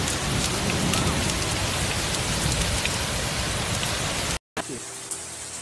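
Heavy rain pours down during a storm in Murcia, Spain, in a dense, constant hiss, loud and close, with a brief dropout near the end.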